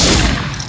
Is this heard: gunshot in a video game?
yes